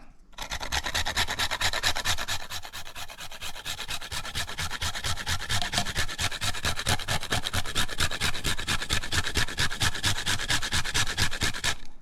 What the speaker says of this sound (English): Let's garnish it with some nutmeg. Find my little grater here.